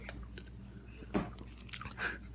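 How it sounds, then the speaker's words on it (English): Someone chewing a cough drop, a few quiet, close crunches and bites spaced irregularly over a couple of seconds in an otherwise hushed room. "our other contestant is already apparently chewing"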